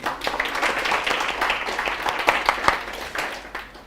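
Classroom applause from students, a steady patter of many hands clapping for about four seconds, moderately loud and fading slightly at the end.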